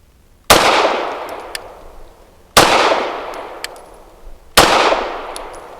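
A KOR FX-9 RP pistol fires PPU 147 grain 9mm rounds: three loud, close shots spaced about two seconds apart, each a sharp crack with a ringing, slowly fading tail, and no voices.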